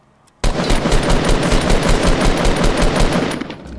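Rapid automatic gunfire from the video game Fortnite starts abruptly and continues as a dense, loud burst of shots for over three seconds, with no talking.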